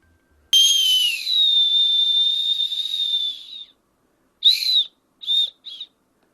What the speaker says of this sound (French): Le petit sifflet de survie, genre comme si j'allais siffler